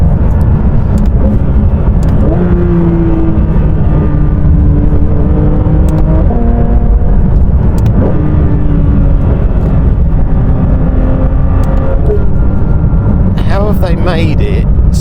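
Porsche 992 GT3 RS cruising at gentle road speed, a steady loud engine drone with shifting tonal whine from inside the car, with someone talking over it throughout.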